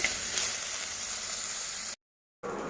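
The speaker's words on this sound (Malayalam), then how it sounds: "കുറച്ച് ഉപ്പിട്ട് കഴിഞ്ഞാൽ ഉള്ളി പെട്ടെന്ന് വഴണ്ടി കിട്ടുമെന്നാണ് പറയുന്നത്." Onions sautéing with salt in a pan for Kerala-style ulli theeyal, a steady soft sizzle and hiss that cuts out briefly into silence before resuming.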